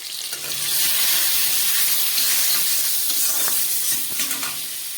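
Pointed gourd (potol) frying in a pan, a loud, steady hiss and sizzle with faint stirring scrapes, close and continuous without talk.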